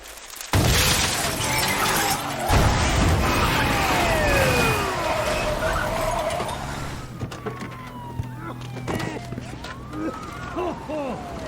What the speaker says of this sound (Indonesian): Mereka melempar mesin cuci yang membuat mobil polisi kecelakaan.